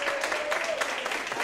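At a comedy show voting round, an audience claps for an act, a steady spread of applause with a voice briefly audible underneath.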